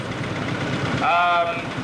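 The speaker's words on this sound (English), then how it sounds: "number 43 is a Nuffield 460. Nice original tractor." A Nuffield 460 tractor engine idles at a steam rally, a steady low chugging under nearby talk, with a brief higher tonal sound partway through.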